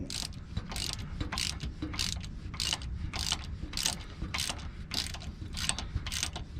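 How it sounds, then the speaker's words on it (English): A 1/4-inch drive socket ratchet with an 8mm socket, used on a vehicle's front driveshaft-to-axle U-joint, clicks in a steady run of about a dozen crisp, close ratcheting bursts with no talking. "instead of using my 3/8 drive, since these things are tiny, I'm stepping down to a 1/4 drive"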